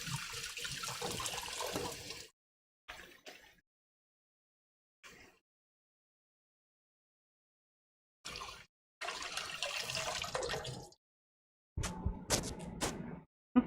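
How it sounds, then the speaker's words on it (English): Tap water gushes in short bursts as a hand coated in egg is rinsed during chicken parmesan breading, loud hissing stretches separated by silent gaps, ending with brief splashes and clatter. "I'm going to give my egg hand a little bit of a rinse over here"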